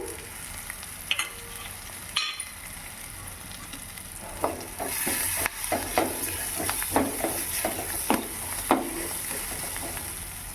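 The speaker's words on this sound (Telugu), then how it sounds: "ఎర్రగడ్డలు కొద్దిన ఇవన్నీ బాగా వేయించుకోవాలి కాస్త ఇంగువ కాస్త కరేపాకు" Onions sizzle in hot oil with asafoetida and curry leaves for mango dal, a steady frying hiss broken by repeated scrapes and clinks of a spoon stirring the pan.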